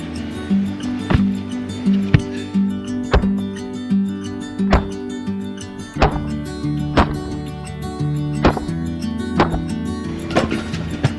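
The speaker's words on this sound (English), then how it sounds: "I try to split wood in a tire" An axe splits firewood braced inside an old tire, landing as sharp, hollow thunks about once a second over a steady, droning tonal background.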